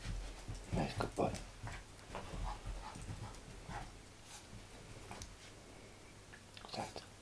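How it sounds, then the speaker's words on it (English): A dog whimpers and pants in soft, intermittent bursts, with faint yips and mouth sounds scattered across a quiet, close background. "This is Eddie, the dog, by the way."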